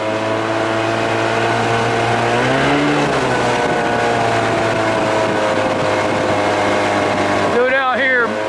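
An old outboard motor boat fitted with DIY trim tabs runs at speed, a loud steady engine drone with shifting pitch and rushing water, while someone talks over it.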